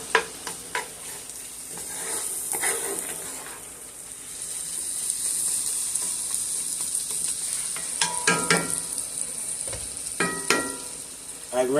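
Strong onions frying in a pan for beef stroganoff, a steady close sizzle with scraping stirs, and sharper utensil clinks toward the end, no talk.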